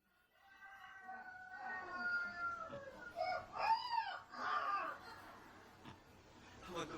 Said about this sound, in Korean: 근처에 닭장이 있는데 수탉이 꼭 끼워라고 우니까 강아지가 이게 뭐라고 자기도 울부짖었는지